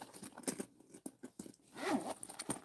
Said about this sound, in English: I love these zipper pulls from Laywack.